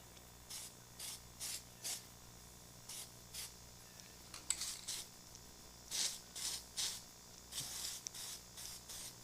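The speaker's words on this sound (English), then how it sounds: "just go ahead and put a nice coating on the back of the brake pads." An aerosol can sprays a coating onto the back of Subaru WRX brake pads in a series of short hissing bursts, some quick and some longer, quiet and close with pauses in between.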